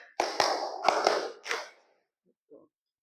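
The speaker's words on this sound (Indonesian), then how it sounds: "Tepuk 1, tepuk 2, tepuk 3, tepuk 4," Five crisp hand claps, counted off in a classroom exercise, ring out close by in an uneven rhythm, then a brief faint voice follows.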